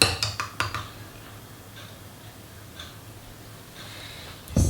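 A spoon reaches into a container of mascarpone for brioche dough, with a quick run of light metallic clinks and taps at the start, then near silence and a final scrape.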